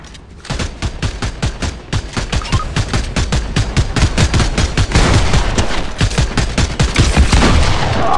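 Rapid gunfire from a gun in the video game Fortnite, loud dense bursts of repeated shots running nearly continuously throughout, with no talking.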